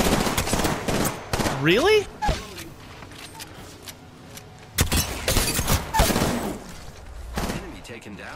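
Automatic gunfire in the battle royale video game Apex Legends, with loud rapid bursts coming in clusters and a sweeping whine between them, while someone speaks briefly over the shooting.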